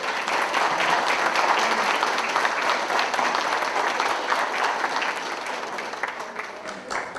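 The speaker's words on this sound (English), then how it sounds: "how about a round of applause for our honorees today?" An audience gives a round of applause for honorees at a Living Treasures ceremony in Derry, New Hampshire, with dense, sustained clapping that tapers slightly toward the end.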